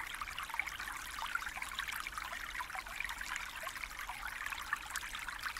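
A stream flows over rocks, a steady, continuous trickling and burbling at moderate volume with no pauses, close by and without any voices.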